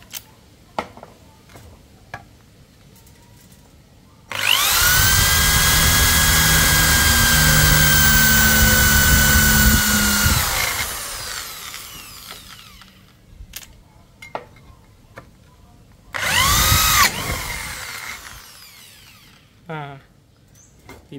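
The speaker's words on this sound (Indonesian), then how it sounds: "Tidak ada masalah ya untuk mengebor besi dengan mata bor diameter 7 mili, masih oke." An electric drill with a 7 mm bit whines loudly for several seconds as it bores into iron, tapering off, followed by a shorter second burst of drilling.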